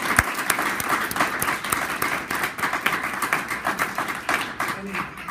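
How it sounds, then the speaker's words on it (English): A round of applause from a live audience at a presentation, with dense, close hand clapping that pulses in uneven waves and carries on steadily for several seconds, no speech heard above it. "Round of applause for these guys."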